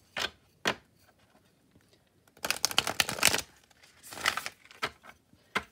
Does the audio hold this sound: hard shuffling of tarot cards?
yes